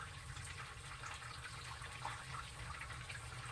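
Running tap water flows steadily during handwashing in a home kitchen, a soft continuous gush with no talk.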